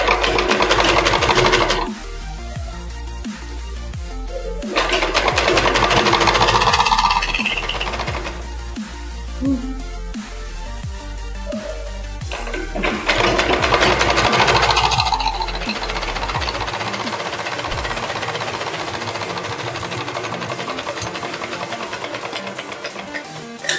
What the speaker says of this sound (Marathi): आतमध्ये फोल्ड करून आणि आणखी एक टीप मारून घेऊ.